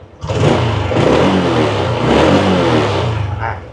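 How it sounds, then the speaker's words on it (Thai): A 2020 Honda Wave 125i motorcycle revs loudly and up close as its throttle is twisted, the engine note swelling and holding steady across several seconds with a slight dip and rise, then easing off at the end. "ลองดูจากตอนที่บิดด้านบนบ้างนะครับ ว่าคันเร่งเขาเนี่ยสามารถที่จะบิดติดตามมือผมได้แบบปกติเลยนะครับ"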